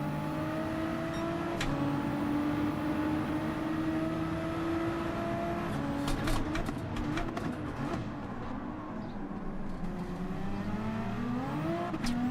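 Lamborghini Huracan race car in Gran Turismo 7 at a GT1 race, engine notes rising and falling through gear changes and revving, with other cars' engines layered underneath, fairly steady and moderately loud.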